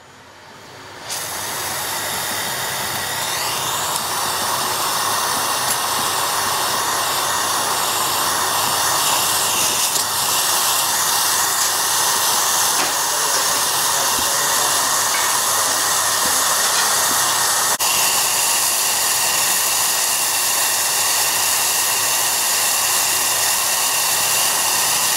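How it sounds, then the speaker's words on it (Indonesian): A torch burns with a steady, loud, continuous hiss while welding an air conditioner capillary pipe, starting abruptly after a short quiet moment and holding unchanged throughout. "Sekarang kita las ya."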